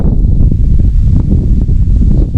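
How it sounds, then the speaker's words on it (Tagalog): Loud, constant wind roars and buffets the microphone at a windmill site in Pililla, Rizal, with a low rumble and gusty rustling, steady throughout. "Lakas pa ng hangin."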